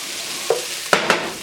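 Onions browning in a pan for French onion dip, stirred with two or three quick scraping strokes over a soft continuous sizzle, close up.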